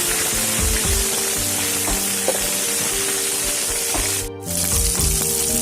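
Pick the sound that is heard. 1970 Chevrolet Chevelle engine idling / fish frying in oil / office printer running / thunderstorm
fish frying in oil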